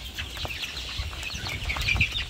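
Steady clucking from several Egyptian Fayoumi chickens, close by, with scattered calls and a constant background hum.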